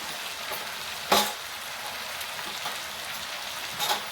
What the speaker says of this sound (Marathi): भोपळी मिरची कांदा टोमॅटो परतून झाले की त्यामध्ये हा सोयाबीन भिजवलेला आहे तो